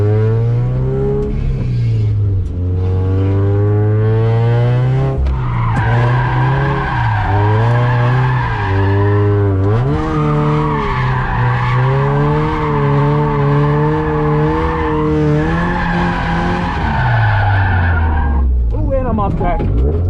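A Scion FR-S sports car drifting at a track event, its engine revving hard in rising and falling pulls while the tires squeal and skid loudly through long slides, close up and continuous, with no talk over it.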